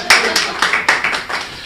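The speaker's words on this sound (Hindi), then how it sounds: "बात आप तक पहुंचे तो आपकी तालियां उठनी चाहिए" Hands clap in a quick, even rhythm at a Hindi comic poetry recital. There are about seven crisp, close claps in under two seconds, with no voices.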